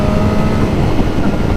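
A 2022 BMW S1000R motorcycle with an aero header exhaust gives a loud, close, continuous engine roar with a rough low rumble, held steady for the moment.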